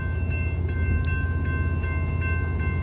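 A train rolls through a railroad crossing as the crossing signals are activated, with loud steady rumbling, rhythmic clicks of wheels over the rail joints and a sustained tonal ringing on top, heard close and alone.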